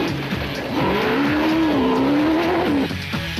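The Total Motorsport Porter rally car roars past close by on loose powder in a short, loud, rising engine burst with a sliding tyre hiss, then fades.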